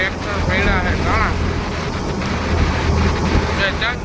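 Strong wind blowing outdoors on a road, roaring steadily across the microphone with a vehicle's hum underneath, while a voice talks over it.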